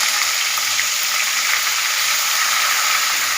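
Chopped large onion dropped into hot oil for a cauliflower tomato curry, giving a steady, loud broadband sizzle and hiss that holds evenly throughout with no pauses.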